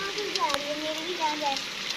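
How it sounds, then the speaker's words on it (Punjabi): Heavy rain pours down in a steady hiss while voices carry over the downpour. "ਬਾਰਿਸ਼ ਜ਼ੋਰਾਂ ਨਾਲ ਸ਼ੁਰੂ ਹੋ ਗਈ ਆ"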